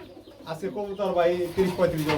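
Pigeons coo in a loft holding many pairs, a close, soft burbling coo that rises and falls, with a voice talking over it.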